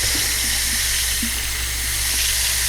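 Tap water runs steadily into a small bowl holding cucumber seeds set to soak, a continuous close hiss of flowing water with no talk.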